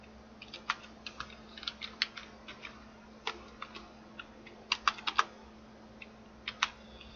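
A computer keyboard clicks in irregular bursts of keystrokes, clustered taps spaced by short pauses, close and crisp over a faint electrical hum, with no talking.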